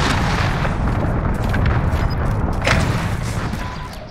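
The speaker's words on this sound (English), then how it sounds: "Enemy cruise missile incoming!" A cruise missile blast in Call of Duty: Modern Warfare multiplayer: a loud, dense rumbling explosion that fills the whole stretch and fades slightly at the end, with no voices.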